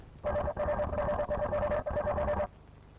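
Electronic ringing tones from a robot dog swarm communicating, in four rapid bursts, each a steady trilling beep, closely spaced and loud, then abrupt silence.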